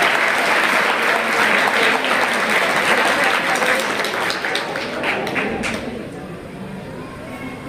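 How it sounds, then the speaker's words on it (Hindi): Audience at a school celebration breaks into strong applause, dense clapping that stays loud for several seconds before thinning toward the end, with faint voices underneath. "इनके लिए भी जोरदार ताली"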